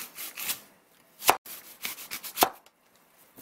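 A knife chops an apple into quarters on a cutting board, several crisp separate cuts with short quiet gaps between them.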